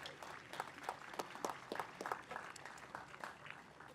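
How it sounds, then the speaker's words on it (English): Scattered applause from an outdoor park concert audience at a US Army Jazz Ambassadors show, faint and distant, with individual claps popping out irregularly over a thin crowd wash. "How about one more round of applause"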